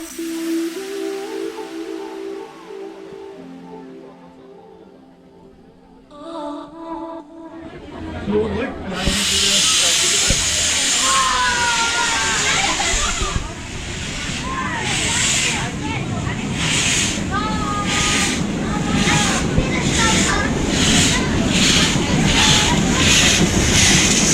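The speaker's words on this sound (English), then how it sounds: "And now we can also see our train departing." A narrow-gauge steam train departs Bad Orb station with a loud steam hiss and rhythmic chuffing that grows steadier, over rumbling wheels and clanking; earlier, quieter engine hum.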